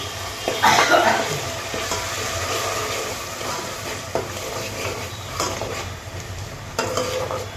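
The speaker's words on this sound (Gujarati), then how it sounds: "સરસ રીતે આપણો વઘાર કરવાનો છે મિત્રો" Spices and gravy for pav bhaji fry and sizzle in a pan with steady stirring scrapes, a continuous close hiss with occasional louder clinks and scrapes, no talking.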